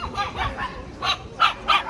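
Dogs for sale at Odesa's Starokonny animal market bark and yip repeatedly in quick bursts, close and fairly loud, amid market background noise.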